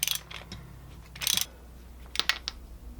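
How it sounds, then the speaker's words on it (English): A 21mm wrench loosening the bolt at the bottom of the pinion on a Mazda Miata steering rack, heard as a few short bursts of close metallic ratcheting clicks separated by quiet pauses. "Loosen up the bolt on the bottom of the pinion with a 21mm."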